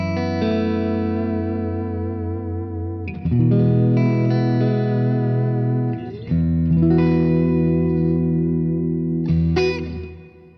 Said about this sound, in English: So you go like a nice clean tone with a bit of reverb at the end.